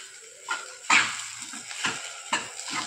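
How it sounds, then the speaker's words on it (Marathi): A spoon scrapes and stirs a besan and cabbage vegetable dish in a pan, a few soft separate strokes with light clinks, quiet and close. "भाजी छान मिक्स करून घेऊ"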